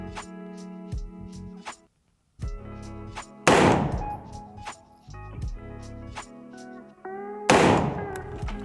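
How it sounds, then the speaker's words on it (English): Two sharp, loud rifle shots, seconds apart, from a rifle with a ZF5 scope fired during hold-over practice at a measured distance. Steady background music plays throughout. "we're gonna take 2 more shots here"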